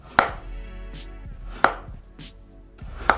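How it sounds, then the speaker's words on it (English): Small crisp radishes are sliced thin with a knife on a cutting board, giving three sharp, evenly spaced chops close by with quiet gaps between them and no voices. "slice them up real thin."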